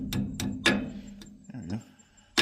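Wheel bearing part being tapped out, several sharp metallic knocks in an irregular rhythm at close range, with a person talking between the hits.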